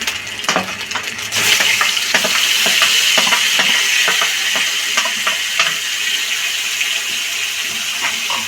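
Tomato paste sizzling loudly in a hot pan as it is stirred into frying mushrooms for a vegetarian cashew mushroom curry, with a steady hiss and scattered scraping clicks of the spoon, no voices.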